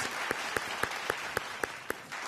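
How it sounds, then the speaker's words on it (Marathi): An audience gives a hearty round of applause to welcome guests at a stage event, a steady wash of clapping with sharp rhythmic accents that holds for a couple of seconds, with no one speaking. "सगळ्यांचं पुन्हा एकदा जोरदार टाळ्यांनी स्वागत करूया"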